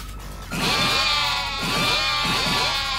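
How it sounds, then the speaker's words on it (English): Sheep bleating in the video game Yakuza: Like A Dragon, a few close, wavering bleats that overlap in quick succession over a steady game backdrop. "Leave me alone, you damn sheeps."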